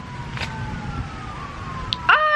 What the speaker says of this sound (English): I know y'all heard them sirens.